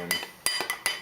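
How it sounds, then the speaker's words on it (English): A spoon clinking against a bowl while stirring salt into pizza dough, four or five light, bright metallic taps in an uneven rhythm, close and quiet. "Stir that in."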